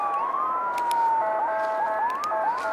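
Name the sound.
emergency vehicle sirens at night in Los Angeles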